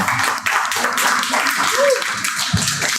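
Applause for the hosts at an LBank Labs event, a steady wash of clapping from a modest audience, moderately loud and even throughout, with a faint voice briefly audible.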